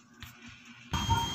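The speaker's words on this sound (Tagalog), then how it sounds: "meron siyang buzzer. So, ibig sabihin, umaandar yung kanyang continuity." A megger insulation tester's continuity buzzer sounds once the test probes are connected, a steady electronic buzz starting partway through after a quiet stretch of faint handling noise.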